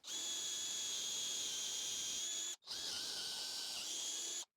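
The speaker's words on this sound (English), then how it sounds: "I'm going to use a 10mm drill bit, and then I'll finish it off with a 8mm drill bit" A power drill with a 10mm bit whirs loudly and steadily at close range in two long bursts, broken by a short stop, with no voices.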